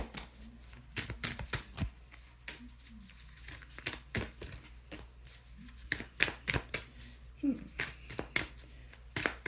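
Rapid riffling bursts of card shuffling repeat through the clip, crisp and close, with a few quiet voices in the background.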